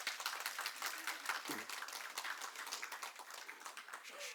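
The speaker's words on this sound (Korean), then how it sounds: "뭐 박수로 환영해 주시죠." A church congregation claps steadily to welcome guests, a dense, even patter of many hands at moderate distance lasting throughout, with faint voices underneath.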